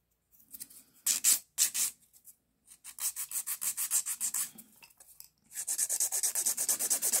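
A hand file rasps across an acrylic nail in short rapid back-and-forth strokes, coming in close, crisp bursts separated by brief pauses.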